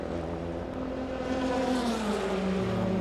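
The Flying Lizard number 45 race car pulls out of the pits after refuelling at Sebring, an engine note rising steadily in pitch as it accelerates, heard over a continuous background roar of the circuit.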